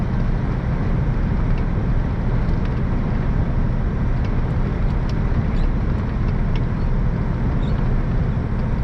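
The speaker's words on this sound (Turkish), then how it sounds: "Şöyle bir rotardan çekelim." Truck engine with the retarder engaged for braking, heard from inside the cab of an empty truck on the road: a steady, loud low rumble and drone that holds unbroken, with no talk over it.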